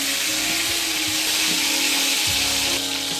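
Curry leaves dropped into hot oil in a pan with dry red chilli, giving a loud, steady crackling sizzle that continues without a break and without talk.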